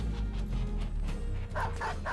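Short yips and barks from a dog in the Battle Brothers video game, three quick bursts near the end of the clip over a steady low rumble of game music and effects.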